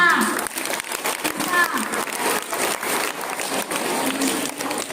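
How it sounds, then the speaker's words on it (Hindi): An audience at an Independence Day celebration clapping for children receiving prize money, a dense patter of claps with some voices mixed in underneath. "तालियां।"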